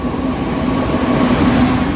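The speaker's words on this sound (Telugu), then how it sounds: "మావా, చెన్నైకి వెళ్ళే ట్రైన్ అయితే వచ్చేసింది అనమాట." A train arrives at a station bound for Chennai, a close, steady rumble of wheels and carriages that rolls on without pause.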